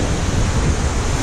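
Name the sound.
water rapids ride at Europa Park theme park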